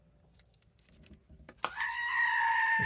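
A goat bleats close by in one long, loud, sustained cry that starts abruptly after some soft rustling and keys jangling.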